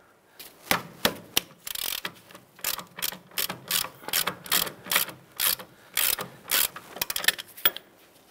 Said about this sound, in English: Using a 21 millimeter socket, let's go ahead and loosen the upper control arm bolt here.